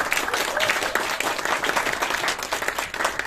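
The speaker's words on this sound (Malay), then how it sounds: "Berikan tepukan kepada PTPTI." An audience at an event gives a round of applause, dense, even clapping filling the room at steady volume throughout.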